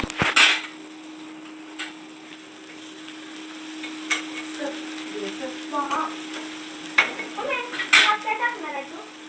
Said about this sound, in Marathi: आता मी आता खोबऱ्याचं वाटण टाकून घेते